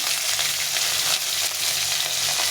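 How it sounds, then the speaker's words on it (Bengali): Green chilies frying in hot oil with five-spice, a steady loud sizzle with stirring scrapes running throughout, no voices. "এখন আমি দিয়ে দেবো এই কয়েকটা কাঁচা লঙ্কা কাঁচা লঙ্কাগুলোকে ফাটিয়ে নিয়েছি"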